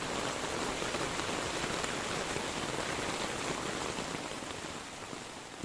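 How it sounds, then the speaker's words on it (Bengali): Steady, dense rain falling outdoors shortly after an afternoon departure, a continuous close wash of drops hitting surfaces with no pauses and no voices. "তো আমাদের রওনা দেওয়ার পরপরই বৃষ্টি শুরু হয়ে গেল।"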